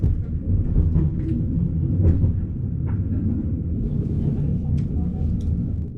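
Golden Pass Express train running through Switzerland, heard from onboard as a steady low rumble of wheels and carriage with faint rattles and clicks above it.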